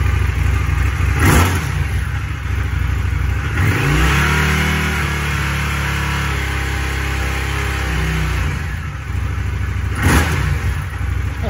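An Indian FTR motorcycle fitted with an Akrapovic slip-on exhaust revs close by, with sharp throttle blips rising and falling over a steady idle. No one speaks.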